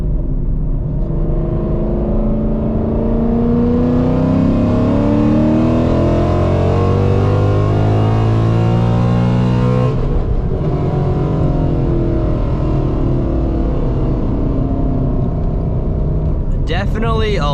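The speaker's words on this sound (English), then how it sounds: "All right, here comes our little third gear pull." An S550 Mustang V8 with an aftermarket exhaust roars through a hard third-gear pull, a loud, close, continuous rising drone that eases briefly near the end and then swells again.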